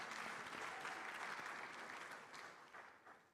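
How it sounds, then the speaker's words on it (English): Audience applause for panel guests at the 30th Afreximbank Annual Meetings, a dense, steady clapping that fills the hall for a few seconds and then thins and fades toward the end. "Please give them a round of applause."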